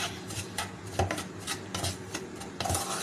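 Semolina and gram flour stirred together in a pan over medium heat for halwa, giving steady scraping and rubbing strokes of a spoon against metal, close and continuous with no talk.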